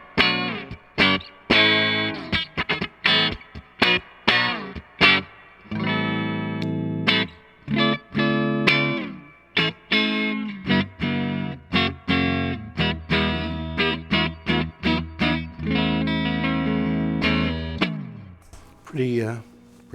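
A clean electric guitar through a tube amp plays chords and single notes with a warm tone and a touch of reverb, strummed in a loose rhythm and alone.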